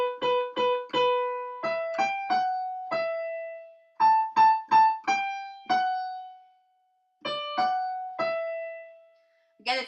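Piano plays a melody alone, a slow line of clear single notes in short groups, each ringing and decaying, with brief gaps between phrases.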